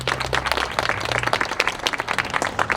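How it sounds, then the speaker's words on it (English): Applause from a small gathering at a Children's Memorial Flag Day ceremony in Lewisburg, West Virginia, distinct, fairly close individual claps in an uneven, lively patter, with a low hum underneath early on. "Let's give them a big round of applause."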